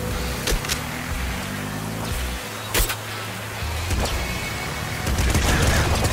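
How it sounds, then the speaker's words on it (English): Rapid, dense automatic gunfire from a triple machine gun in the top-down shooter Nuclear Throne, a continuous rattling fusillade of game weapon shots with a few louder bursts and booms, steady and loud throughout without pauses. "Triple machine gun."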